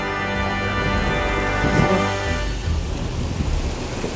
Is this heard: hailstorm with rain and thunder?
yes